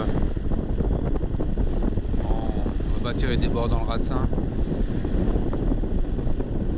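A sailboat motors under engine into a 10-knot headwind near the Raz de Sein off Brittany. A constant low engine drone mixes with heavy wind buffeting on the microphone and water noise, while people speak French over it.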